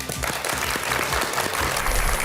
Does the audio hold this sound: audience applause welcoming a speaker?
yes